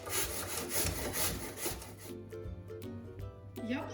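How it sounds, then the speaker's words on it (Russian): Peeled apples rubbed against a coarse grater, a steady rasping scrape that runs continuously then breaks into shorter strokes near the end, close and fairly quiet. "Почищенные яблоки потрем на крупной терке."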